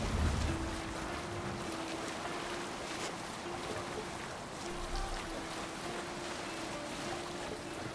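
A Viking longship rowed across open water in the game Assassin's Creed Valhalla, a constant wash of waves and wind with a faint low tone running beneath, steady throughout.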